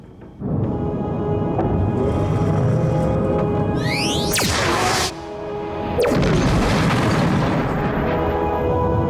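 A shock torpedo launches with a sci-fi sweep followed by a loud booming blast and rumble that carries on under a sustained roar, a second burst hitting around the six-second mark.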